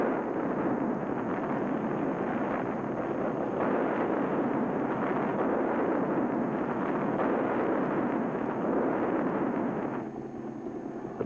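Rockets fire from a Seawolves helicopter carrying fourteen 2.75-inch rockets, a continuous roaring, rumbling barrage that holds loud and steady, then drops slightly at the very end.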